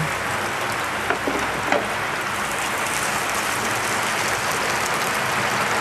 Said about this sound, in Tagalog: Ayan, walang tigil ang ulan.